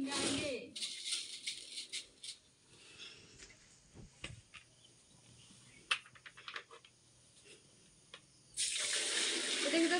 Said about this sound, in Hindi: हम लोग डाल रहे हैं पानी